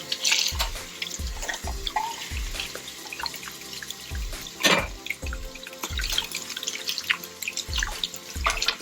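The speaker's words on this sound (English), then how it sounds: "Rinse it up." Cold tap water splashes over canned chickpeas being rinsed in a kitchen sink, close and uneven, with steady running water broken by repeated soft thuds and drips.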